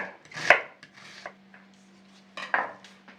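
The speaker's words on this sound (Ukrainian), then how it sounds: "Мені потрібно нарізати дрібненьку цибулю. Нарізаю кубиком." A knife chops onion on a board in quick, sharp knocks, a few irregular strokes close up, with a low steady hum underneath.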